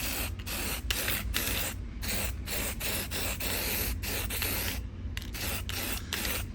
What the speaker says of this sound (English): go ahead and continue to spray this down